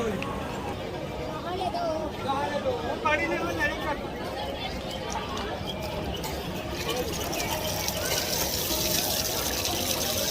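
At a gurdwara washing station, a tap runs steadily as hands are washed, the continuous close splash of water heard under people talking and growing fuller toward the end.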